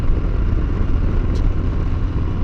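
A Harley-Davidson Fat Bob motorcycle cruises at a low 2,000 RPM, its engine a steady, dense low rumble that holds without revving for a couple of seconds, with some wind noise over it.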